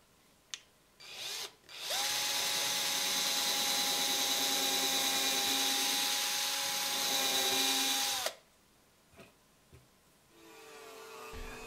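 A power drill bores a hole for a screw eye in a homemade fishing lure covered in leaves, with one steady, loud whining run of about six seconds between brief clicks and handling noises.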